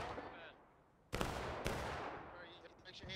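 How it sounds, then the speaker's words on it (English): Two sharp, loud gunshots ring out half a second apart in the video game War of Rights, each with a booming tail, against a quieter battlefield ambience. "You got plenty of shots there."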